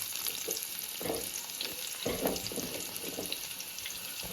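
Onions frying in a pan with a continuous close hiss and sizzle, some brief bursts of stirring, no voices.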